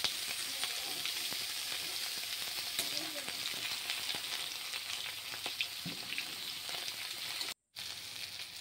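Slices of pointed gourd (potol) frying in oil in a pan make a continuous close sizzle with scattered crackles and pops, a short break near the end, no speech.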